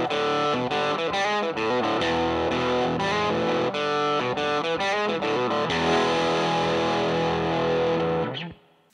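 Recorded distorted electric guitar loop with chord strums and riffs played back through vintage Jensen speakers, loud and continuous, then cutting off abruptly near the end.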